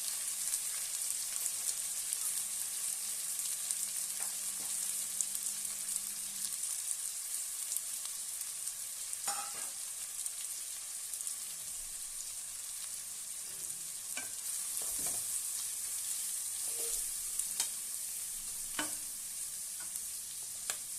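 Four chopped onions fry in the pan for a country chicken curry, giving a steady, fairly soft hiss and crackle with occasional stirring clinks and scrapes over twenty seconds, with no voices.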